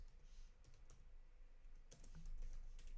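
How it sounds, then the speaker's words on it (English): Quick, uneven keystrokes on a computer keyboard as a name is typed into an online gift card order form, close and fairly quiet, with no talking. "I'm just going to type in"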